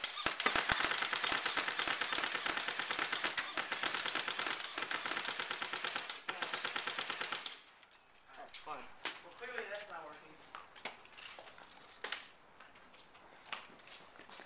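A Thompson submachine gun fires at an old iPod in long, rapid, loud bursts for about seven seconds, followed by scattered single cracks and rattles with some voices.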